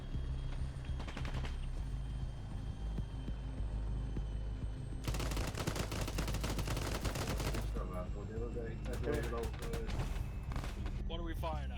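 Gunfire in the military video game Arma 3 comes in rapid bursts of automatic fire separated by quieter stretches, with heavy crackling volleys and distant rumbling battle noise.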